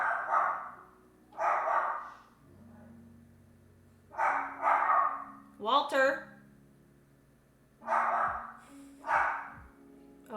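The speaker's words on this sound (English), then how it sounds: "We have a new puppy, and he likes to bark at people." A new puppy barking in pairs of loud, close yaps, several bursts spread across the clip with short pauses between them, while a person talks over it.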